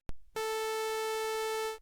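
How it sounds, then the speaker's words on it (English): Steady synthesizer sawtooth-wave tone, a bright buzzy sustained pitch rich in even overtones, holding at constant loudness for about a second and a half after a short click, with no talking. "sawtooth wave,"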